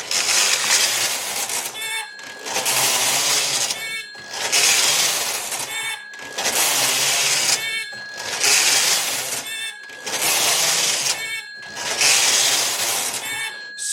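A Brother KH910 knitting machine fitted with AYAB selecting needles: the carriage slides back and forth in about seven regular passes, each a loud rattling rush ending in a brief electronic beep, with short pauses between.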